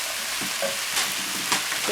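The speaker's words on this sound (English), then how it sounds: "Add in our black beans." Black beans go into a pan with frozen sweet corn for a Mexican quinoa salad, giving a steady close sizzle with soft scraping stirs and light clatter.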